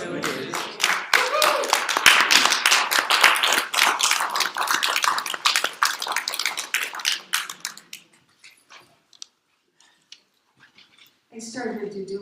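Audience applause after a musical performance at a spiritual service, a dense run of clapping for about eight seconds that thins and fades out, followed by a brief murmur near the end.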